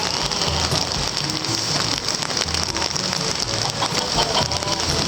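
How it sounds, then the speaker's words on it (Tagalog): Heavy typhoon rain pouring steadily onto surfaces nearby, a loud dense constant patter without pause and no talk. "Lakas po ng ulan."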